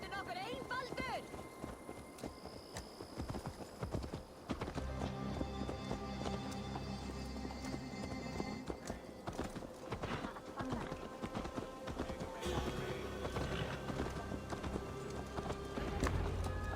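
Horse hooves clip-clopping at a steady trot in Assassin's Creed Valhalla, mixed under continuous game music and ambience at moderate loudness.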